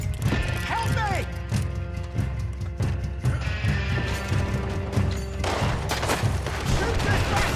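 Gunfire in a Red Dead Redemption 2 fight rings out in scattered shots amid a busy mix of shouting voices, horse noises and crashes, steady and loud throughout.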